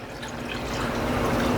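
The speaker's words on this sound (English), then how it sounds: "Pour this water in." Water is poured into a brine shrimp hatchery cone, a steady splashing fill that grows slightly louder over a brief moment.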